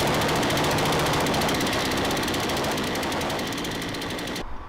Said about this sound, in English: we slowed down the RPM of the engine, and now it's operating correctly